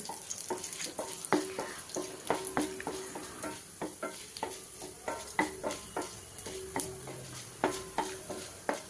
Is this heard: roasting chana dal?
yes